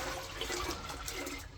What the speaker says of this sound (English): You can take a pan of water or a bucket of water and just pour it in.